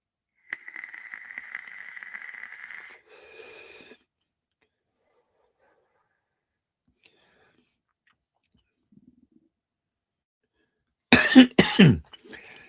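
Two sharp, harsh coughs break a long quiet stretch near the end, after an earlier steady electronic hum.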